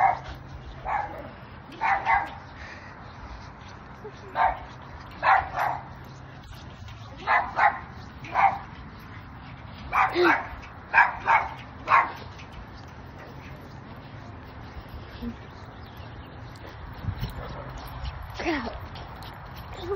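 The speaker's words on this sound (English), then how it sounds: "There's so many dogs around here." Dogs barking outdoors during a walk, a series of short sharp barks in bursts over the first twelve seconds, then sparser and fainter yips, moderately distant.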